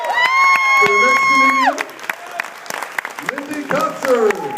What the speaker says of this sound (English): please, give a round of applause for the next